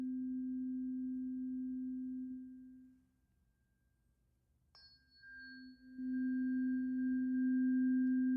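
A gentle, steady sine-wave tone for meditation hums alone, fades out to near silence for a couple of seconds, then swells back in at full strength, with a faint higher ringing note joining as it returns.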